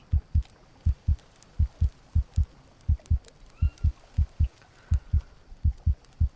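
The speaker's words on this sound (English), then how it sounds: "heartbeats still sound the same" In a VR survival video game, a heartbeat thumps in clear double beats at a steady, moderate pace. The beats are close and prominent over a quiet background.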